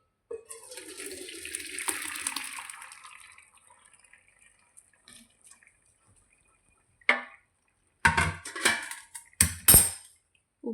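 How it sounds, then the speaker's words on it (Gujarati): Cooked rice for Gujarati dal bhat tipped from a pot into a perforated colander, a soft pouring water rush first, then fading quiet, followed by several sharp metallic clanks and scrapes of utensils close by. "તો આપણે ભાતને કાણાવાળા વાસણમાં કાઢી લઈએ."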